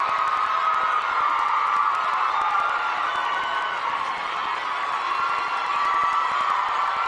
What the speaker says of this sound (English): Everyone's cheering.